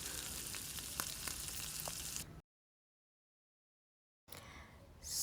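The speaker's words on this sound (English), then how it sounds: "We're going to fry this on medium heat so it cooks properly." Oil sizzles steadily over medium heat with a few crackles and pops as Nigerian fish rolls fry, then cuts to silence before the frying hiss returns, swelling louder.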